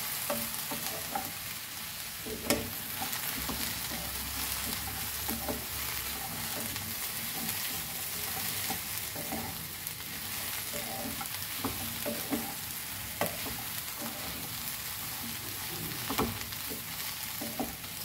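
Okra frying and sizzling in a hot pan for a Goan okra and kokum amsol, a steady crackling hiss with occasional stirring scrapes and pops throughout, close and continuous with no talking.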